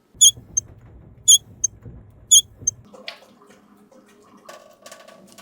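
A household water supply valve shut off under a sink for a faucet replacement, with a few sharp high squeaks, then running water cutting off and some quiet clicks and handling noises close by.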